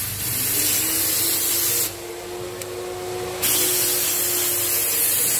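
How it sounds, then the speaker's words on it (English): A Graco HVLP spray gun hisses loudly and steadily, briefly softening in the middle before returning to full force. "You can spray just the width of the spindle to avoid overspray."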